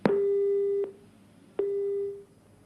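Two long, steady single-pitch busy-signal tones on a phone line, separated by a brief pause, each cut off abruptly after a click.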